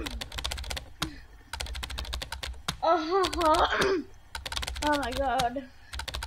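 Rapid keyboard typing clicks from the game Emily Is Away Too, running steadily through most of the stretch at close range, with a voice talking over it in the middle and near the end.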